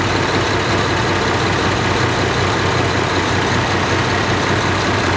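A Hydro model tractor engine idles at a Red Power Round Up show, a loud, steady, close diesel rumble that stays even throughout with no voices over it.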